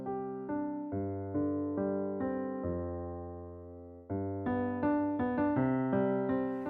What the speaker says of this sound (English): okay, so let's put that on the piano, which sounds like this